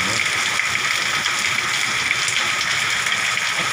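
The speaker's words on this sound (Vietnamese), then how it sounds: "Toàn là mưa đá này các bạn." A strong hailstorm in Phong Thổ district, Lai Châu province, Vietnam, batters roofs and surroundings with a dense, unbroken roar of hail and rain, loud and close throughout.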